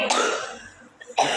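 A single sharp cough from someone in a home Quran recitation lesson, a brief loud burst near the start, a quieter stretch, then a second forceful cough at the end, close to the listener.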